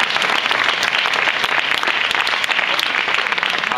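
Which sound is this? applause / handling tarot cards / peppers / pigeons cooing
applause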